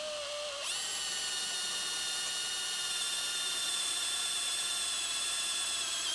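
A drill bores a 5mm hole through aluminium, a steady high whine with a squealing edge that runs close and loud, alone and unbroken for several seconds after a brief lower-pitched start.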